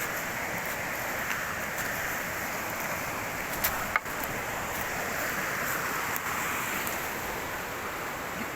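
Water rushing through an opened sluice gate at a weir on a swollen winter river in a woodland nature reserve, a steady broadband roar heard at a distance, with light wind buffeting and a couple of brief knocks.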